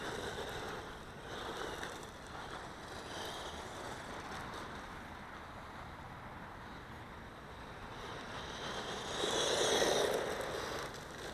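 An XK WLtoys K959 two-wheel-drive RC car runs over gravel, giving a steady crunching, rumbling texture with a louder surge near the end; no talk is heard.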